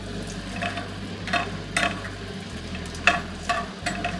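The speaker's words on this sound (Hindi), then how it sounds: "इसे थोड़ा क्रैक कर लेंगे, नहीं तो ये फटने लगेंगे। इसी तरह फ्राई करेंगे इसे।" About a bowlful of dried red chillies fry in a pan for chutney, giving a soft crackling sizzle under a low hum, with a few scraping stirs and light pops.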